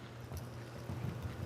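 Hooves of a ridden horse clip-clop steadily on the ground during a horse training session, a continuous rhythmic patter at moderate distance with no talk.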